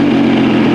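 An MV Agusta Dragster RR motorcycle runs close by with a loud, steady exhaust drone, a strong low hum holding evenly through a short burst and no voices.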